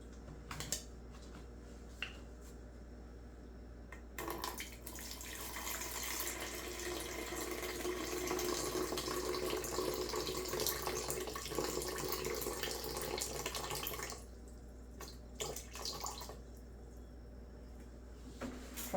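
Water poured into a pitcher resting on a scale while measuring for hot process lye soap, a steady broadband splashing stream lasting about ten seconds under a constant low hum, with quieter room noise before and after.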